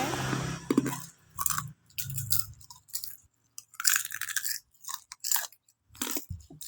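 Crisp fried wontons sprinkled with seaweed powder from a stall outside a school, crunched in a run of distinct close bites and chews separated by short pauses.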